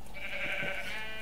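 A sheep bleats on a sheep farm in the Magic Farm 2 video game, a single sustained nasal bleat lasting about a second, fairly clear against a steady background.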